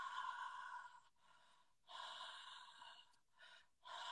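A person sniffs sharply several times up close, quick nasal inhalations in uneven bursts with short gaps between.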